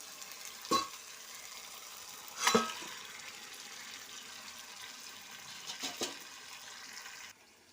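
Chicken meat going into curry masala in a pan, a soft continuous sizzle punctuated by a few sharper stirring scrapes and splashes.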